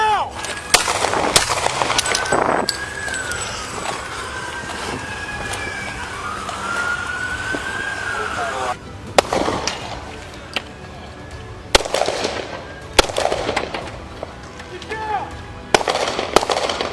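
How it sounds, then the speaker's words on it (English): Police open fire during a roadside confrontation after a chase: sharp gunshot bursts crack out among wailing police sirens, with shouting voices and vehicle noise throughout. "6 shots rang out in rapid succession."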